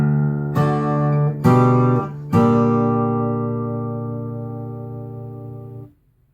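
Fingerstyle guitar plays measure 18 of a song: three plucked chords in a row, each ringing out and the last sustaining several seconds before it is damped, played alone and close.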